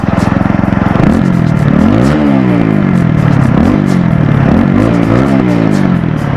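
A TVS Apache RTR 200 4V motorcycle, 2018 Racing Edition 2.0, idling with a steady loud throbbing thump, briefly revved with rising and falling engine pitch, close to the bike.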